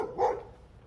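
A single short bark from a dog, fairly faint and somewhat distant, then fades into quiet background.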